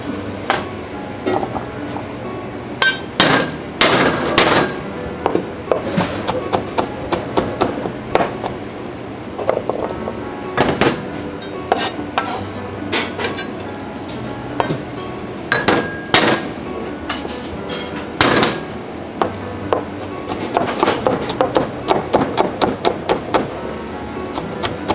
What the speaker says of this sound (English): we smash the garlic and chop into small pieces